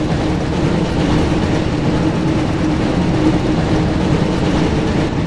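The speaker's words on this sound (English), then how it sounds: "Looks like we found the train, Ron." Loud, continuous rumble of the Hogwarts Express train in the PS1 Harry Potter and the Chamber of Secrets game, an unbroken heavy rolling drone of wheels and engine with no talk over it.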